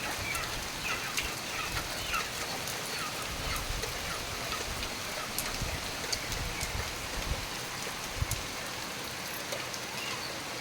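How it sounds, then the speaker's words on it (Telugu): Rain falls steadily outdoors with big drops pattering on surfaces, a continuous moderate hiss with scattered sharper drip hits and faint birds or chickens in the background. "ఎంత పెద్ద పెద్ద చినుకులు పడుతున్నాయో"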